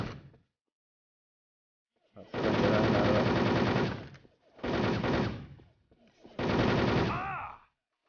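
Bursts of rapid automatic gunfire from a battle-arena video game, three loud sustained volleys separated by short gaps, with bullets striking the player character.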